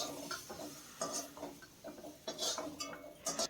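Fried eggplant is lifted out of a wok with a metal utensil, giving soft scraping and light clinks in an irregular rhythm, faint and close, with no talking.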